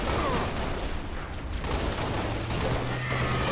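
Dense, continuous gunfire from the video game Halo Reach fills the sound, rapid bursts and crackling explosions layered together loudly with no pauses.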